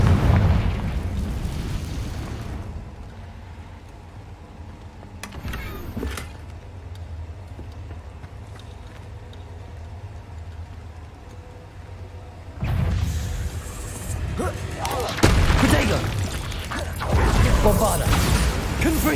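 Spell explosions from Bombarda and Confringo in Hogwarts Legacy, booming blasts with crackling debris, one burst near the start and louder ones toward the end, separated by a quieter stretch.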